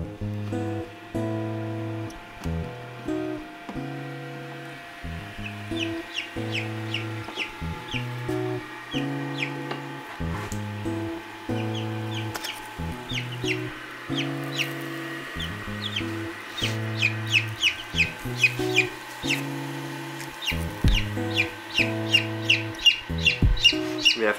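Newly hatched chicks, among them partridge-colored, black and silver partridge ones, chirp in quick high peeping runs that grow busier toward the end, heard over steady background music.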